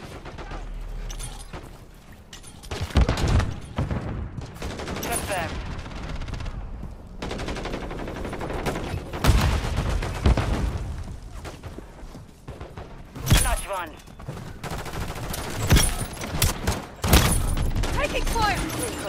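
Bursts of gunfire in Call of Duty Modern Warfare III multiplayer, rapid automatic volleys and loud single cracks rising and falling over about twenty seconds, with shouted callouts from game characters and talk throughout.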